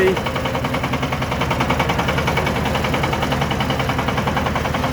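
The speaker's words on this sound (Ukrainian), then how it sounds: "Тестуємо, опановуємо міні-трактор Шифен 350." A Shifeng SF-350L mini tractor engine runs during a test drive at a roadside dealer, its small diesel putting out a steady, rapid chugging throb that stays loud and close throughout.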